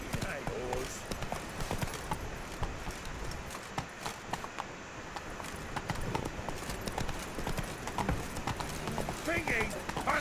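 Horse hooves clip-clopping in the video game The Witcher 3, a steady rhythmic trot throughout with game ambience and a voice speaking over it.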